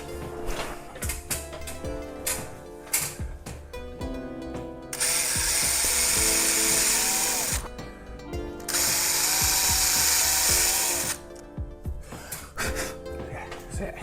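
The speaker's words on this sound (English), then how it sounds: "I'm going to drill these 2 holes and then fix into that." Two long bursts of a whining power drill boring holes for fitting a door closer, separated by a pause, with clanks and handling noises of tools before and after.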